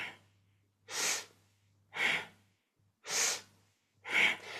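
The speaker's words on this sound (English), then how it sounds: "So you're exhaling in, inhaling out." Strong, rhythmic breaths during a kundalini yoga exercise, four evenly spaced forceful exhales with quieter inhales between them, close to the microphone and with no speech.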